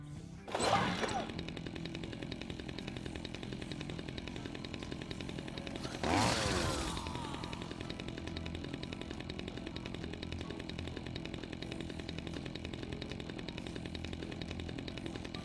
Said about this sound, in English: Oh yeah, chainsaw.